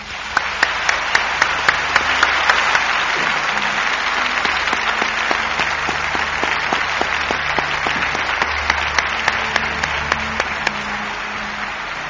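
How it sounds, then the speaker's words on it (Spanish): A live radio studio audience in Galicia gives a sustained, emotional round of applause for two adventurers, dense steady clapping lasting over ten seconds with faint murmurs beneath. "Pido de verdad un emocionado aplauso para estos dos últimos aventureros"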